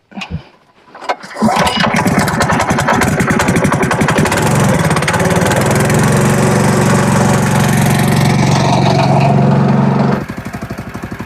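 A SuperSplit HD wood splitter's small engine starts after a couple of brief pulls and settles into a loud, steady running drone while warming up, holding close and constant before easing slightly at the end.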